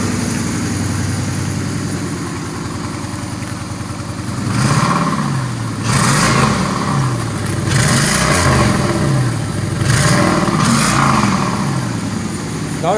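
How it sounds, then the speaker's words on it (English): A 2006 Pontiac Grand Prix with a newly welded, still slightly leaky exhaust idles steadily, then revs several times in rising and falling surges, loud and close. "Can I rev it up a little?"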